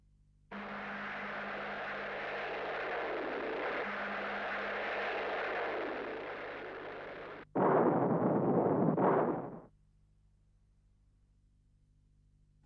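An ADATS anti-tank missile test shot roars in a long sustained rushing blast, then a louder, harsher burst of impact on armor cuts in and ends abruptly, with no voices.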